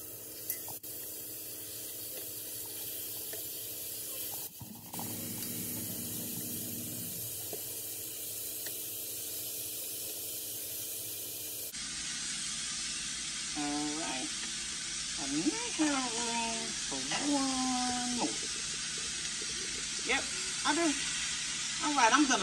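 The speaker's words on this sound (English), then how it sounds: "So I have my skillet. It's hot, and I am about to place the meatballs in." Meatballs dropped into a hot skillet for alfredo pasta set up a steady, hissing sizzle that runs the whole time, with a burst of louder spitting partway through and a person talking over the frying.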